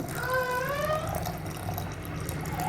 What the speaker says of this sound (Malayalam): നമുക്കിത് ഇനി കുറച്ച് വെള്ളം ഒഴിക്കണം വെള്ളം ഒഴിക്കാം